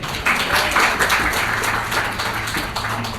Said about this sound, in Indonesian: Tepuk tangan bagi.